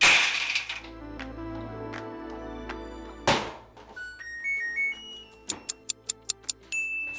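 Ice cubes tumble inside a clothes dryer with wrinkled clothes, giving irregular hard knocks and cracks followed by a run of sharp, evenly spaced clicking beeps from the machine.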